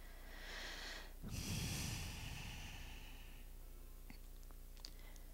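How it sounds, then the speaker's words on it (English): A slow, deep yogic breath: a long breathy exhale, close and fairly loud, rising suddenly and then fading into quiet room tone, with no talk. "And breathe."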